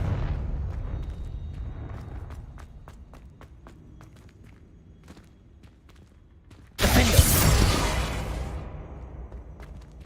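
A Confringo fire spell explodes in the video game Hogwarts Legacy, a single sudden loud burst that roars for about a second then tails off, following a stretch of quiet footsteps and light clicks.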